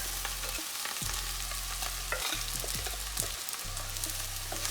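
Sabudana mixed with peanuts, salt and boiled potatoes stir-fried on high flame, a steady close sizzle with soft spatula scrapes, beneath a low continuous stove hum, no talk.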